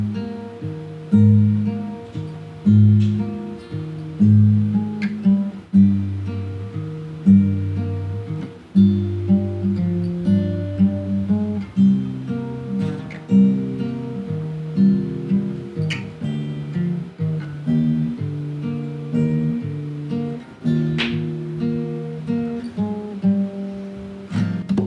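Acoustic guitar plays a steady fingerpicked pattern of repeating arpeggios and bass notes, close and moderately loud, continuing alone throughout.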